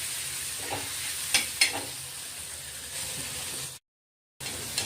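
Tomato and coriander sautéing in oil in a pan, giving a steady close sizzle with a few sharp stirring scrapes, then a brief gap of silence before the sizzling resumes.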